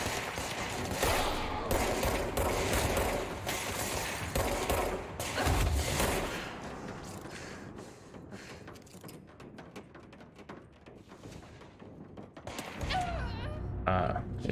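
Enemy gunfire in the game Control: dense, loud bursts of rapid shooting fill the first six seconds, ease off into scattered shots and impacts, then surge again near the end, with talk over it.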